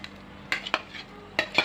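Paneer pieces being stirred into simmering shahi paneer gravy in a pan, with a few distinct scraping clinks of a spoon against the pan over a low bubbling background, close and fairly soft, no voices.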